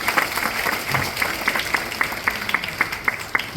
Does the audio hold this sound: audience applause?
yes